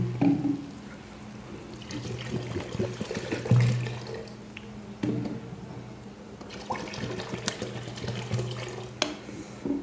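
Broth poured into a pan of mixed fish and eggplant curry, a continuous liquid splashing and sizzling pour close by, rising and easing over several seconds with no talk.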